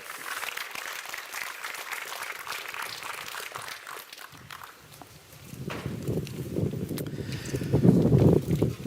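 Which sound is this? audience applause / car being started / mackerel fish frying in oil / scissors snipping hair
audience applause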